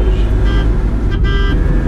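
Dense road traffic in India with a steady engine rumble and two short car horn toots standing out above it, close and loud.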